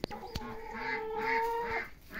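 Hens in a coop give a few drawn-out, tonal clucks and calls, fairly close and clear against a quiet background.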